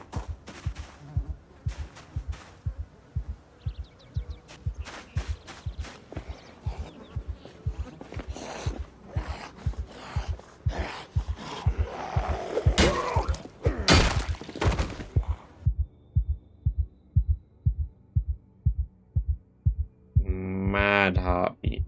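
A steady, heavy heartbeat pounds in the Project Zomboid video game, a close rhythmic double thump repeating throughout over a low hum, with a brief burst of other game sound near the end.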